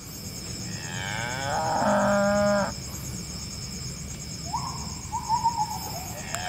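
A water buffalo lets out a long, low moo, followed a few seconds later by a second, shorter call, over steady outdoor background noise.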